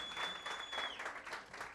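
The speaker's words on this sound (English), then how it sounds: "Let's give him another round of applause." An audience at a live chat event gives a brief, steady round of applause, moderately quiet, with a thin whistle-like tone briefly audible above the clapping.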